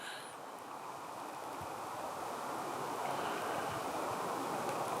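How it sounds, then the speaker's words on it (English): A stream flows through a forest at night with a steady, broadband rushing wash that holds constant and slightly swells, alone without voices. "The water is louder than the traffic."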